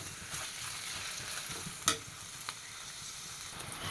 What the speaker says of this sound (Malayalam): ഇതാ രണ്ട് വലിയ സവാള കനം കുറഞ്ഞ് അരിഞ്ഞതാണ് ഇട്ട് കൊടുത്തിട്ടുണ്ട്